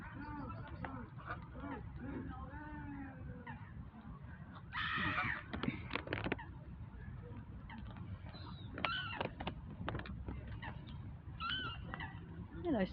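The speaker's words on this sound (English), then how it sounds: "Oh, it's a gorgeous swan." A swan calls in Small Heath Park, where seagulls also gather; a short honking burst and a few brief calls rise over steady outdoor noise while a person talks throughout.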